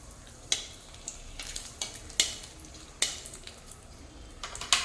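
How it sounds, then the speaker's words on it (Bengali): Chilies hitting mustard oil in a hot wok give a steady soft sizzle, punctuated by sharp crackles and pops at irregular intervals, close and moderately quiet with no talking. "তো এখন এই যে গরম কড়াইয়ে দিয়ে দেবো লঙ্কা।"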